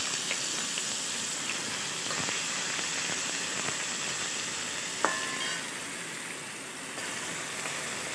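Carrots and beans fry for pulao in a pan, with a steady close hiss of sizzling oil and occasional stirring scrapes, and no talking.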